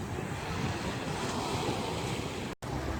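Choppy sea waves wash along the Havana waterfront in a continuous broadband roar mixed with heavy wind buffeting the microphone, steady throughout apart from one brief dropout.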